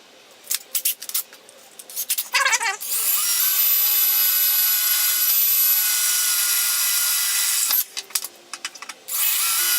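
A power drill tapping threads into a metal forge burner fitting: short bursts of whirring at the start, then a long steady high-pitched whine held for several seconds, followed by a few brief spurts and a restart near the end.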